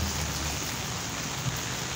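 Steady heavy rain hisses continuously, a dense even wash of sound with no pauses.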